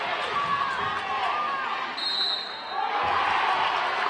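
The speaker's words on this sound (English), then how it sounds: "And this crowd's getting real loud here," A loud crowd roars in a high school basketball gym at Northeastern High School in Manchester, Pennsylvania, during a game against Central York. The noise is dense and sustained, dips briefly, then swells again, with a commentator talking over it.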